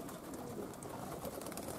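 Pigeons just released from a transport vehicle on a dark evening, a faint, muffled cooing and soft fluttering rustle against steady background noise, distant and low, with no voices.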